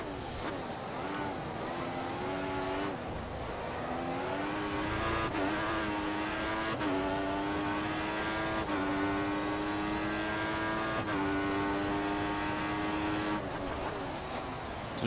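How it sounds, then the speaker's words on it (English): Front right tyre squealing under late braking on an F1 car in F1 2014 at Valencia Street Circuit, a steady high-pitched whine riding over the loud droning engine, repeating through several braking phases. "Bit of a squeal on the front right tyre as we're braking as late as possible for that corner."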